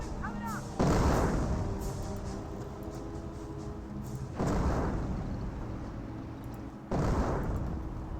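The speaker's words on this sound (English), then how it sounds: "With 2 mortar half tracks, there's a lot of indirect fire." Artillery and mortar fire from two mortar half-tracks in the real-time strategy game Company of Heroes, three heavy booming blasts a few seconds apart, each rolling into a long rumbling decay under continuous battlefield noise.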